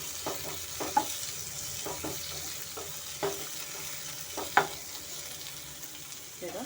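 Tomatoes and vegetables fry in a pan for vegetable upma, a low steady sizzle with scattered spatula scrapes and a couple of sharper clinks.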